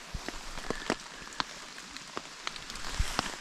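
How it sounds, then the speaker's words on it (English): Light rain falls with scattered, irregular drops tapping on a surface over a quiet background hiss, soft and fairly close. "Currently still raining."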